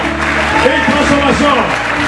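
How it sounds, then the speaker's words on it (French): A church congregation during a sermon breaks into loud acclamation, many voices shouting and cheering over scattered clapping in a dense, continuous roar. "Une acclamation prophétique."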